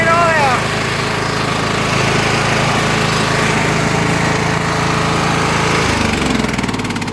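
A lawn mower fitted with a plow pushes a boulder, its small engine droning loud and close with a rough, rattling edge that shifts in pitch near the end as the load changes.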